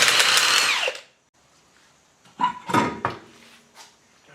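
Power tool working on the wheel of a Hyundai Elantra with a bad trailing arm bushing, loud and close: a sustained whirring burst that winds down, a short quiet gap, then several shorter bursts and clanks.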